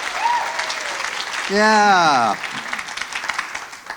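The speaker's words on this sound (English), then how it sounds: "Let's give them a big round of applause." Applause from a comedy show audience for first-time comics, steady and moderately loud under a host's voice, with a burst of cheering or a sung note partway through.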